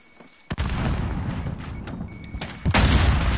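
A loud grenade explosion in Call of Duty Modern Warfare, a sharp close blast followed by a sustained rumbling roar and a second heavy boom near the end.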